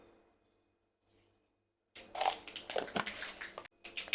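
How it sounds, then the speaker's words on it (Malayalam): Half a teaspoon of mustard seeds spluttering in hot sunflower oil, a dense, close burst of crackling pops that starts suddenly after about two seconds of near silence and continues with a brief gap near the end. "അതിലേക്കൊരു 1/2 ടീസ്പൂൺ കടുക് ആഡ് ചെയ്യുക."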